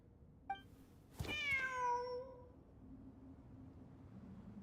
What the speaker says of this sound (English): The cat's showing us the way forward.